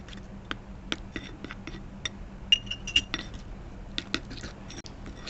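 Homemade sunscreen cream being mixed in a bowl, scattered light clinks and taps of a utensil against the bowl, close and quiet, irregular over a faint background hum.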